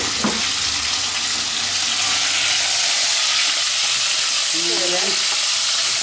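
Food sizzles steadily in a hot pan, with a clatter of utensil stirring near the start and again toward the end, the frying loud and close with no voices.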